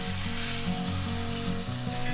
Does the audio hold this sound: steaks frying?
yes